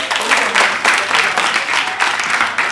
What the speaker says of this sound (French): On va applaudir aussi pour Pépé Karim Diallo.